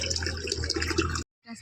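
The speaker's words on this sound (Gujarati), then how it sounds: "અહીંયા પાણી ભરાઈ ગયું અને કપડાં લઈ લીધા" Water running from a tap to fill a container, a steady loud rushing stream that cuts off abruptly, followed by a brief quieter clatter.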